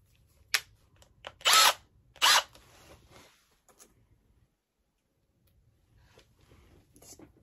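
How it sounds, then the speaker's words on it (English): A power drill whirs in a few short bursts, driving a screw into a wooden pedestal plate board, then the workshop falls quiet apart from faint handling noise. "I just want to get this drilled in."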